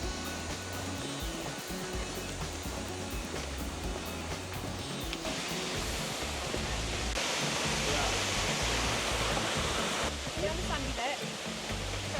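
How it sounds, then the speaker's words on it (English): A multi-tiered waterfall in South Goa, India roars as a dense, steady rush of falling water, loud and close throughout, with the wash briefly swelling brighter partway through; no clear talk stands out. "I'm not sure the action cam does justice to the waterfall."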